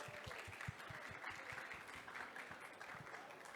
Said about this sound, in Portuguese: Por favor, uma salva de palmas para elas.